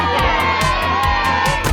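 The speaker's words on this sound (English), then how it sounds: "Peppa and George shouted with excitement." Cartoon pigs cheer and shout excitedly after a ball is kicked into a goal at a family picnic, a steady burst of young voices with rhythmic thumps beneath.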